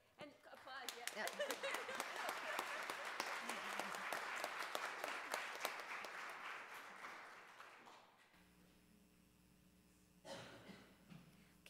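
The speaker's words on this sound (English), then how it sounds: "And applause, yeah." A conference audience applauds after a talk, dense clapping that swells and holds for about eight seconds before fading, followed by a brief quiet room and a short burst of sound near the end.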